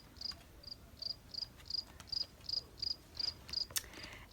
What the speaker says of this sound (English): The small chirping crickets will soon start to sing, while Duck sleeps soundly, his head on his